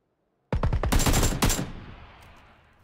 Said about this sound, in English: My friend's got the VSS and that thing shoots super fast on auto.